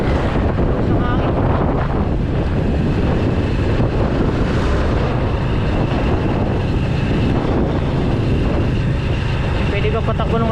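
Strong wind buffets the microphone while riding a light motorbike on a road trip from Bulacan to Pantabangan, Nueva Ecija, a constant loud roaring rush with a voice talking over it.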